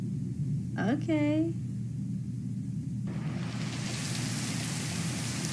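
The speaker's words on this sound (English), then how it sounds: "Oh, it's raining. It's storming." A rainstorm at a lake: after a brief voice, a dense, steady hiss of heavy rain fills the scene, evenly loud and continuous.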